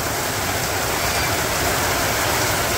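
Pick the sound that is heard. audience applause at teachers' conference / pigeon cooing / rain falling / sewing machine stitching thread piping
rain falling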